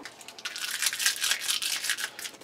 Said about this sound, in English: So I'm going to start taking some of these clips off